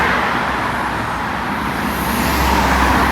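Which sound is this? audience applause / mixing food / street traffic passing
street traffic passing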